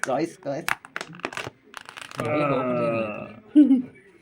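Crinkling plastic and paper wrapping on a kunafa dessert box being unboxed, heard as short rustles and crackles mixed in with a person talking, ending with a louder handling noise.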